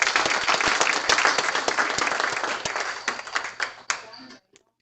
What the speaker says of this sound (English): Please, let's give them a hand of applause